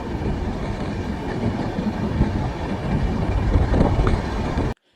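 A train on the hilly Vizag to Araku railway near Borra Caves rumbles and clatters loudly and steadily, with no voices, until the sound cuts off abruptly at the end.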